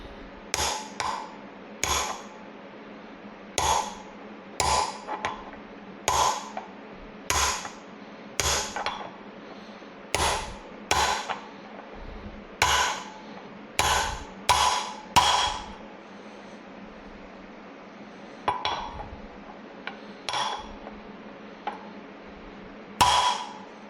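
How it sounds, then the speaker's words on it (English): A hammer drives a wheel bearing in through a socket sized to its outer rim during a C50 rebuild, sharp metallic strikes landing in irregular bursts, some in quick pairs, loud and close, with short gaps between. "make sure that you use a socket that's basically exactly the size of this outer rim, and preferably a bigger hammer"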